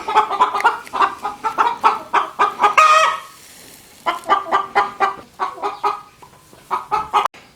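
Hens cluck loudly and close in rapid, rhythmic bursts, with a short pause in the middle before the clucking starts up again.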